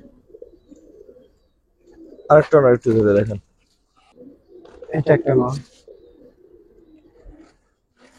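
Old-breed green-necked pigeons cooing in two close, throaty bursts while being held in hand, with quiet voices talking around them.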